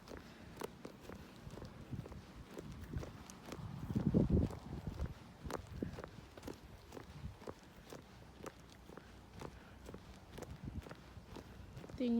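Footsteps walk steadily outdoors on a warm, windy day on the way to work. Soft, regular steps stay faint and distant, with a brief louder rustle partway through.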